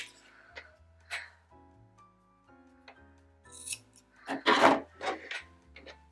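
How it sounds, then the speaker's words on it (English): Scissors snip through excess macrame cords on a handmade plant hanger, a few crisp cuts with soft rubbing of the cord in between, close and fairly quiet, no talking. "And then we cut off the excess cords."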